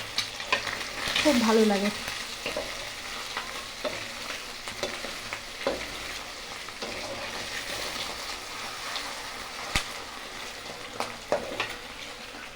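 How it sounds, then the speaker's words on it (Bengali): Paneer fries in a pan with a steady, close sizzle and occasional stirring scrapes and clinks, while a person speaks briefly over it. "আর পনিরটাকে হালকা ভেজে নেব।"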